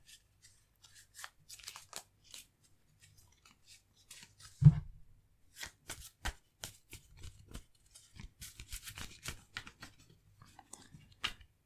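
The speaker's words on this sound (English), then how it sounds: "A quick shuffle." Quick shuffle of a deck of cards in a quiet, close setting, heard as scattered soft snaps and flicks of card edges, sparse and irregular.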